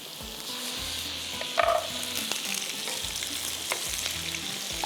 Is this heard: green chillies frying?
yes